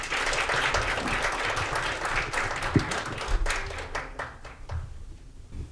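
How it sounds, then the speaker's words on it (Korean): An audience gives warm applause to welcome a speaker at a foundation education event, a dense round of clapping that thins and fades toward the end. "뜨거운 박수로 또 환영해 주십시오."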